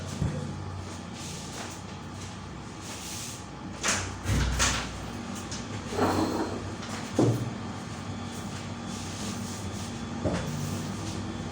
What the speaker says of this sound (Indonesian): Gue buka pintu ya, bentar.